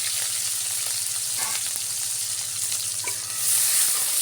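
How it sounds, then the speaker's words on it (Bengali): Onion and green chili fry in hot oil while being stirred for a spicy pangas fish bhuna, a loud, continuous hiss and crackle close by with faint scraping of the spoon. "তেলে পেঁয়াজ, কাঁচামরিচ দিয়ে দিচ্ছি। খুব ভালো করে একটু নেড়ে চেড়ে ভেজে নেব।"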